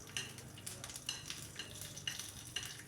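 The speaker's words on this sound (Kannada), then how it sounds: "1 ಬ್ಯಾಡಗಿ ಮೆಣಸಿನ್ಕಾಯನ್ನು ಸಣ್ಣ ಪೀಸ್ ಮಾಡಿ ಸೇರಿಸಿ ಈ ಒಗ್ಗರಣೆಯಲ್ಲಿ ಬಾಡಿಸ್ಕೊಳ್ಳೋಣ" Byadgi chili pieces, curry leaves and asafoetida sizzle in tempering oil for a cucumber chutney, with a soft steady fry and rhythmic stirring scrapes about every half second, close and without talk.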